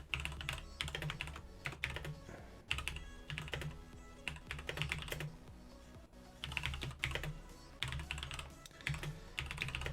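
Fingers type quickly on a computer keyboard while writing up a code review, giving a close, continuous clatter of keystrokes with brief pauses between bursts.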